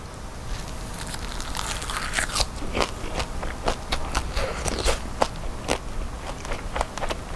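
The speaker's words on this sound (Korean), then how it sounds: "진짜 명태를 너무 먹고 싶었는데 기회가 없었는데 오늘 드디어 먹네" Someone chews and tears dried pollock (myeongtae) indoors, giving a steady run of close, crackly, crinkling bites with sharp snaps scattered throughout.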